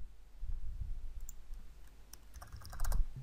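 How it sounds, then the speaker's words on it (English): A name typed on a computer keyboard, a handful of faint, close key clicks spread out unevenly over a low background rumble, no talk. "So let's type in our name."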